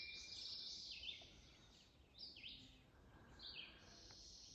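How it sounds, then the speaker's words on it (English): Small birds sing outdoors, faint and a little distant, with several bright chirping phrases spaced a second or so apart over quiet background. "Speaking of listening, hear the birds?"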